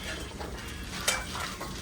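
Onions frying in a small kadai, a steady soft sizzle with scraping and stirring from a utensil and one sharp metallic clink near the middle.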